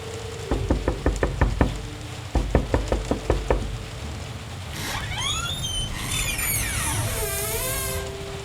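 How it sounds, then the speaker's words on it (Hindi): A latch on a main door is banged hard, two loud bursts of rapid metallic knocks, then a pause and creaking, squealing sounds in a horror audio drama. "मेन दरवाजे की कुंडी जोर से खड़काने लगा"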